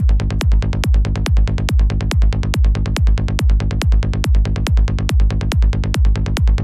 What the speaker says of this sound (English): all of that results in a kick and bass that sounds like this